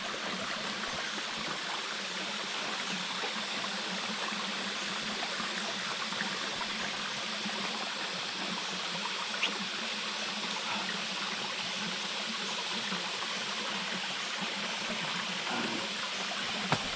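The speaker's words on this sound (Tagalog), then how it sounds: "Ang tagal bumaba ng tubig, ano? Ang tagal din lumabas, oh. Iniipon sa baso." A steady, continuous trickle of water runs without pause, close by and fairly quiet, with no voices.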